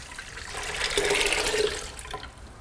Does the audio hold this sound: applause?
no